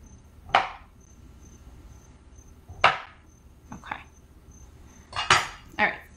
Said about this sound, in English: I just cut it up into cubes